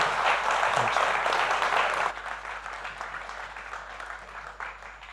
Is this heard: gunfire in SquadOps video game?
no